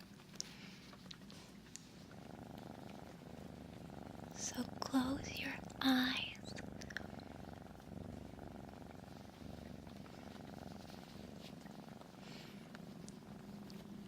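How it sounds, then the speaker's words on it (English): A cat's soft, steady purr hums low and close throughout, while a quiet voice speaks gently over it. "Now I can hear you starting to purr."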